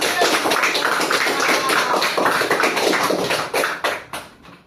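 A class applauds a student group after their presentation, many hands clapping briskly and closely, then breaking into a few scattered final claps as it dies away.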